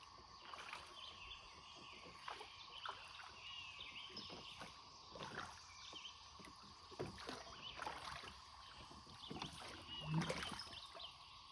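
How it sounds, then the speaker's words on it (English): A small skiff rowed with oars on calm water outdoors, with soft rhythmic oar strokes and dribbling water, faint and distant, with birds calling and light wind around. "allowing me to row in the usual way rather than poling or paddling the skiff like a canoe"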